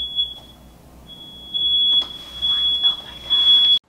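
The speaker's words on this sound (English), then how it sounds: "the alarm went off upstairs. Someone's cooking. Smoke alarm." A smoke detector beeps upstairs in a home, set off by someone's cooking: a steady high-pitched electronic tone that sounds faintly at first, then returns louder and continuous over the final two seconds.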